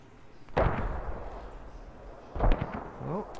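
Incoming fire in the military game Squad lands as two heavy booming impacts about two seconds apart, with rumbling tails, and a voice is briefly heard at the end.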